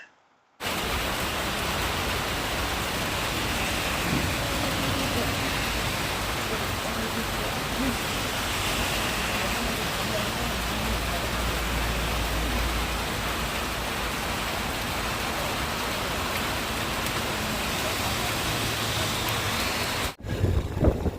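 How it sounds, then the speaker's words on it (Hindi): Continuous heavy rain hiss on a motorbike tour in Nepal, loud and unbroken for about twenty seconds, starting and stopping abruptly, with no talking. "बारिश चालू हो चुकी है।"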